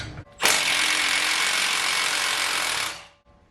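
A new Milwaukee power tool works a car axle loose on a Ford Fiesta, giving one loud, steady, high-pitched mechanical burst of about two and a half seconds that starts abruptly and cuts off, with nobody talking.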